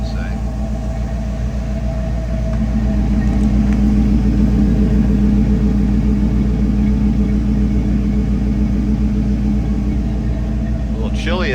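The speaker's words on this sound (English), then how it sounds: "Let's hop out and give a listen to those tailpipes, shall we?" A 1979 Pontiac Firebird Formula idles in a chilly Columbus, Ohio showroom, its single tailpipe giving a steady, deep, loud exhaust rumble that holds evenly throughout.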